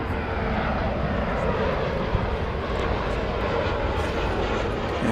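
A Sun Country Boeing 737 roars steadily past at an airport, a loud, broad jet engine rumble that holds evenly throughout with no voices.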